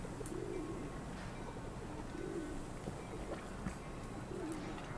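Pigeons coo softly in the background of the city-building game Highrise City, three low rolling coos spaced about two seconds apart beneath a steady ambient hum.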